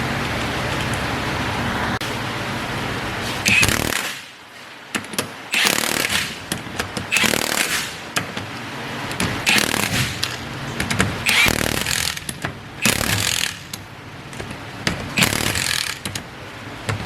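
A power tool runs in short repeated bursts while tightening bolts on a Nissan GTR front differential, with mechanical clatter and quiet gaps between the loud pulses.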